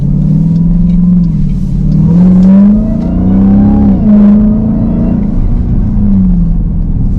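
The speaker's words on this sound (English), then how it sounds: "It is a loud muscle machine. It's got a V8 engine and it is powerful." A 2026 Dodge Durango SRT Hellcat V8 SUV revs up close in a neighborhood, a deep loud rumble that swells and falls through several throttle blips over a steady idle.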